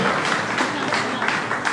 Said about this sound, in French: On applaudit cette fidélité.